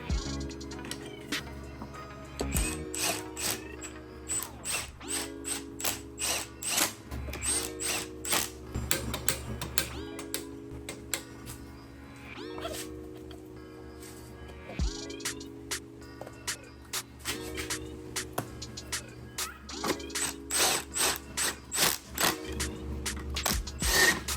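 A ratchet tightens the handlebar clamp on a crashed Kawasaki Z900 motorcycle, giving repeated bursts of close, sharp clicking over a steady tonal background that sounds like music, with short pauses between strokes.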